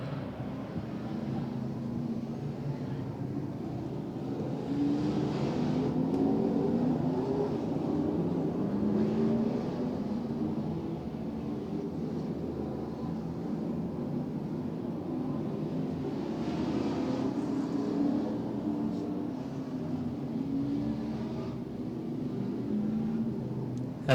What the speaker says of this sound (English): Peters and Borson not getting any help from the lap traffic trying to slow down Brian Little.